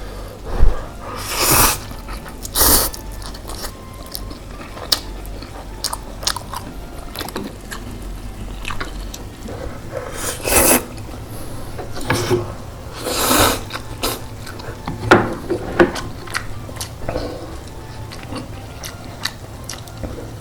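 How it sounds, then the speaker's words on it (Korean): Samyang spicy jjamppong instant noodles being eaten up close: repeated wet slurps and chewing bites come in irregular bursts over twenty seconds, with no talking. "그럼 한번 제대로 먹어보도록 하겠습니다"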